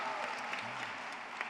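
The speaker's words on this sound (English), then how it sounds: "Yes, clap it up." A graduation audience at KIPP Atlanta Collegiate claps for a graduating speaker's parents, a brief, faint, steady patter of many hands heard from a distance in a large hall.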